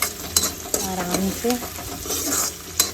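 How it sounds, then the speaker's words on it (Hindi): Sliced potatoes and onions frying together in a pan, a continuous sizzle with sharp spatula scrapes and clinks of stirring, close by, while a person briefly speaks. "तो डाल देते हूँ और दोनों एक साथ भून जाए"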